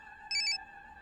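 A short electronic phone ringtone plays alone, a bright two-pulse burst of synthesized tones lasting about a quarter second over a faint steady hum.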